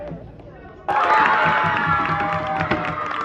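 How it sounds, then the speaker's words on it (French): Young Muslim scouts and guides in Senegal burst into loud cheering, clapping and excited shouting at a results announcement, a sudden crowd roar that stays sustained and festive to the end. "les applaudissements et l'ambiance festive des jeunes scouts et guides"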